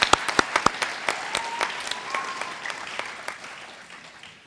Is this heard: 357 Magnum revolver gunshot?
no